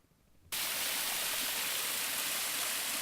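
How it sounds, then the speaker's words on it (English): A waterfall on the grounds of a house in Arden, near Asheville, North Carolina, bursts in after a brief hush and then roars in a steady, dense, close rush of falling water. "And this waterfall is one of the many features of this beautiful house"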